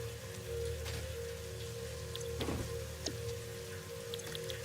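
Rainfall in a factory-building game, Satisfactory 1.2 Experimental: an even patter of drops over a low mechanical drone, with a soft swell midway, no one speaking.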